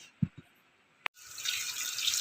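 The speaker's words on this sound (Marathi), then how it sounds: "तर आता आपण भाजी धुवून घेणार आहोत. तर आता मी स्वच्छ धुवून घेते दोन्ही हाताने भाजी." Tap water starts running into a kitchen sink for washing spinach, preceded by a couple of soft knocks and a sharp click, then a close, steady splashing stream.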